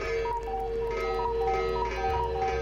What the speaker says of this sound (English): Oh, that cuckoo clock's a little bit annoying.